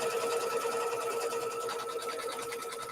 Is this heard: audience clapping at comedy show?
no